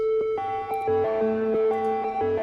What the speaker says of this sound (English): then the synth under that sounds like this.